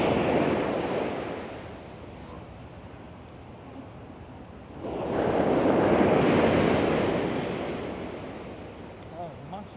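Ocean waves break on Baker Beach in San Francisco, a steady roar of surf that swells into a louder crash about halfway through, with wind buffeting the microphone.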